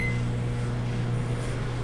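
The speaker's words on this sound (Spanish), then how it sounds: "El microondas trabaja bien." A microwave oven, just repaired after a burst door spring, runs with a steady close electric hum and low drone, with no talk over it.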